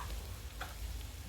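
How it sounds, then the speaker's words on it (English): Butter melting and sizzling in a pan with lean sausage gives a faint, steady crackling hiss with a soft clink partway through, heard alone. "We're gonna throw just a tad of butter in there."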